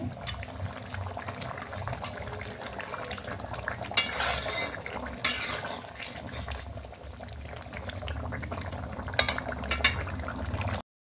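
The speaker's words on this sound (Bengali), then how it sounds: "এবার আমি মাছগুলো দিয়ে দিচ্ছি" Fish pieces go into a simmering eggplant, potato and stem curry, with bubbling liquid, a few loud clattering bursts of a utensil against the pot, and a steady low simmer throughout; no talking.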